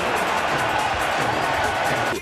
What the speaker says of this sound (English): I got this crowd pretty excited with that move